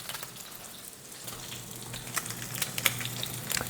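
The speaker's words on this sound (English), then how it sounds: "it's the perfect time to drop our salmon into the oil. And just like that, let it sizzle" Salmon fillets fry in hot oil in a pan, giving a steady hiss of sizzling with sharper crackles and spits that grow more frequent toward the end.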